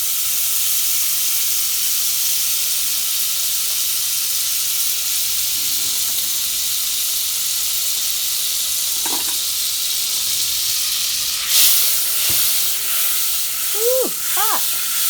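Butter melts in a hot pot with a steady, soft sizzling hiss that runs throughout, joined near the end by a few brief clinks and a faint squeak.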